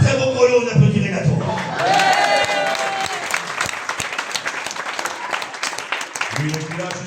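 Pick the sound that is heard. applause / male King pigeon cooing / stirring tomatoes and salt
applause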